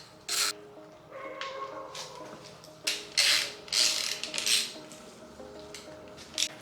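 Ratchet backing out a 10mm bolt on a K24 engine during teardown, with bursts of rapid pawl clicking in several short runs, close and fairly loud, separated by brief pauses and light metallic handling noises.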